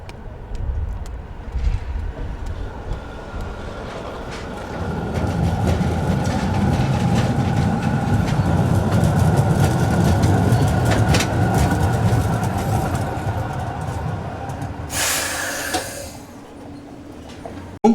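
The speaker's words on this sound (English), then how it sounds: "This is Munkvoll on the Trondheim tram, where TT Class 8 Set 94 is seen arriving." A Trondheim TT Class 8 metre-gauge tram, set 94, rolls in to Munkvoll stop with a rising rumble of wheels on rail that swells and then eases, ending in a brief hiss, while birds call faintly nearby.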